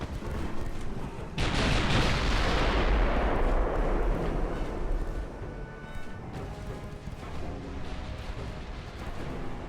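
Naval guns firing high-explosive shells in a dreadnought-era battleship battle game: a loud heavy salvo erupts after a brief quieter start, then a long rumbling boom that slowly decays into sustained distant battle noise.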